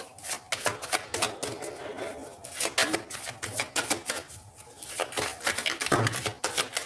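A deck of tarot cards being cut and shuffled at close range, with a rapid run of crisp riffling clicks and slaps that come in dense bursts, briefly pause, then resume.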